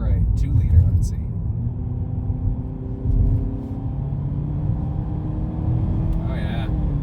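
A 2020 Ford EcoSport SES with the 2-liter engine accelerating up to highway speed, a steady engine drone rising slowly in pitch under road rumble, heard from inside the cabin with a person talking over it.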